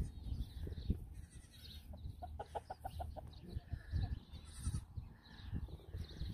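A mother goat and her baby kid bleat on a farm, a run of short wavering calls in the middle of the stretch over rustling and shuffling, fairly faint and close.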